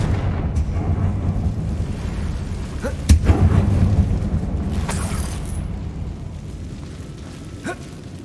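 Confringo spell explosions in Hogwarts Legacy, set inside a closed-off mine: a dull rumbling boom around the middle over a constant low drone, followed by a few softer bursts and pops, no talk.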